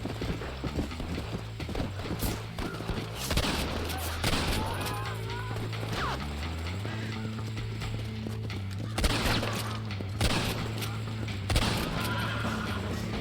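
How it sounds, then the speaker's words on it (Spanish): Gunfire rattles in Red Dead Redemption amid galloping horse hooves and whinnies, with bursts of shots scattered over a busy game soundtrack while voices talk. "¿Quién dispara? ¿Quién dispara?"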